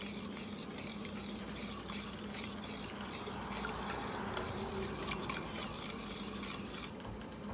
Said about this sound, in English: Get that stirred in and melted.